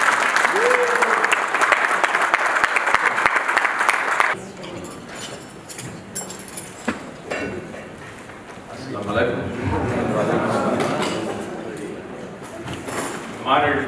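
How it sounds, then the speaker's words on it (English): A large audience claps loudly to welcome a sheriff onto the stage at a meet-and-greet event. The dense applause lasts about four seconds, then drops to scattered claps, crowd noise and talking before swelling again. "Please help me welcome with a huge round of applause."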